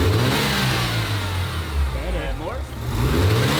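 A Mazda RX-7 FD rotary engine revs hard in a garage while a suspected crack or fault is checked, with loud rising and falling engine roar and the pitch climbing near the end.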